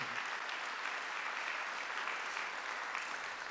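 A church congregation at a Korean Sunday service applauding, an even, sustained roar of many hands clapping with no break and no talk over it.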